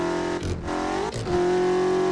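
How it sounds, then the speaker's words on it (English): A car in the Assetto Corsa racing game is handbraked while going too fast, its loud, buzzing engine drone dipping twice in quick succession before holding steady again. "Gonna do a little handbrake here because we're going a bit too fast."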